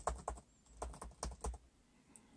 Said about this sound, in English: So I type on the keyboard